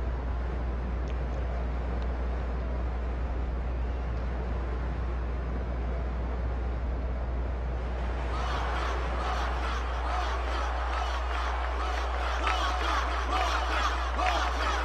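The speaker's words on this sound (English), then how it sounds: "They're cheering for Wakka." A broad wash of video game crowd noise at a Final Fantasy X blitzball tournament swells partway through into louder, rhythmic cheering over a constant low hum.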